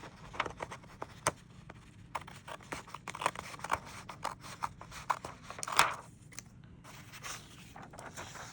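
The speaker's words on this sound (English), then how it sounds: "so this one's ready to cut" Scissors cut through a junk journal page in a run of short, crisp snips and scrapes, irregular and close, with quiet pauses between strokes.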